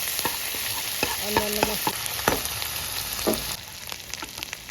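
Onion paste fries in oil with cardamom for a Gandharaj lemon prawn dish, giving a soft, continuous close sizzle broken by light stirring scrapes and a few brief taps.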